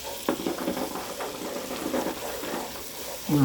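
Flour sizzling gently in a pan while a roux is made for chicken tetrazzini, with soft frying hiss and light stirring scrapes, fairly quiet and steady, ending on a brief clink.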